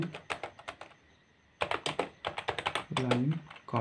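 Typing on a computer keyboard in rapid bursts of light clicking keystrokes, close and quiet, with a brief pause, then more quick taps and a short stretch of talk near the end.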